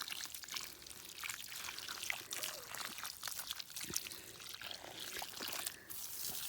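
Water pours and splashes steadily while garden plants and trees are watered in the evening, a continuous close trickling spatter with slight shifts in flow and no talk.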